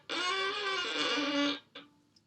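A violin bowed badly produces a harsh, scratchy sustained tone for about a second and a half, loud and close, followed by a shorter rough stroke and a faint scrape.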